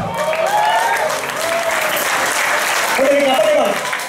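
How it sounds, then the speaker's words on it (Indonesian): Audience applause at a live rock concert by a band at Hard Rock Jakarta, a steady broad wash of clapping lasting throughout with some cheering and voices mixed in. "saya minta tepuk tangan yang buat semangat"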